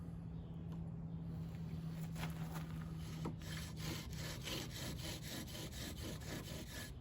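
A bow drill with a steel lanyard bowstring spins a spindle against wood to make an ember, a rhythmic back-and-forth rasping friction that starts partway through and repeats steadily, close by.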